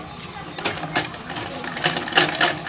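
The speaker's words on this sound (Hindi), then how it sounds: "सिलाई लगाएंगे।" A sewing machine stitches a fold of fabric under a red strip with red thread, running in quick uneven bursts of rattling clatter, close and fairly loud.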